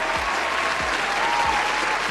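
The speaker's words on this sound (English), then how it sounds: "Give her a round of applause." Audience applause breaks out at a village trustees meeting in Dolton, a steady wash of clapping from a room full of people, fairly close and continuous throughout.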